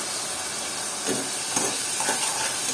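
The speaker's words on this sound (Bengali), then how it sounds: "পেঁয়াজ আদা লবণ সব একসাথে ভাজবো" Onion, ginger and salt frying in hot oil, a steady close sizzle and hiss with a few brief stirring bursts, no voices.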